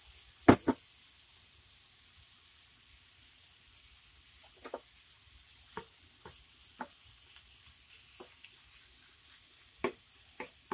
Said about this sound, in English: I'm going to put my shrimp right there on the hot spot.